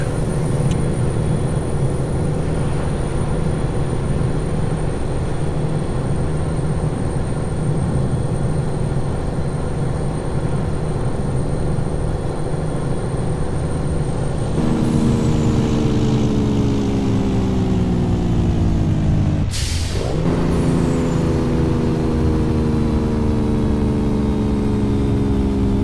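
A Peterbilt 389 truck engine in American Truck Simulator drones steadily and loud throughout, with a shift in pitch partway and a brief sweeping gear change near the end, no talk.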